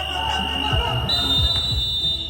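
A high, sustained electronic buzzer tone sounds at a dads-versus-ballers basketball game, steady and piercing above court noise, with a commentator talking in the background.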